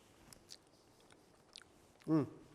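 A brief, close chewing of seasoned sushi rice, a single soft crunchy bite near the end after quiet faint rustles.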